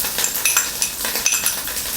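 Pork being mixed with Sichuan preserved mustard greens (sui mi ya cai) in a pan, with a utensil making repeated close clinks and scrapes against the metal in a quick rhythm over a faint sizzle.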